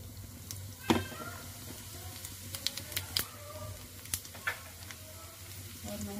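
Cumin seeds frying in a tablespoon of hot oil, with a soft continuous sizzle broken by scattered sharp crackles and pops, close and fairly quiet.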